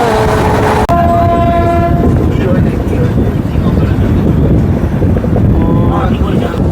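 A Humsafar Express train runs loud and close, its horn sounding in a sustained blast at the start under rushing wind and steady rolling wheel noise.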